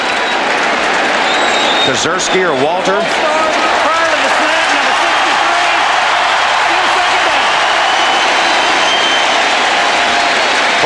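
A roaring NFL football crowd fills the RCA Dome in Indianapolis during a 1995 Bengals at Colts game, a loud constant wall of cheering and noise under a commentator's voice.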